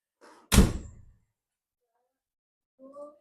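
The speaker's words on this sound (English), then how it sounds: "Here, shut the door, see what it looks like." The door of a 1968 VW Beetle being shut, a single close, heavy solid thunk after a brief rustle, then silence and a short voice at the end.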